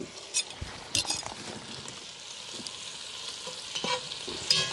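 Leeks frying in a hot cast-iron camp oven, a soft steady sizzle with intermittent scraping stirs and light metallic clinks of utensil against the pot, fairly close.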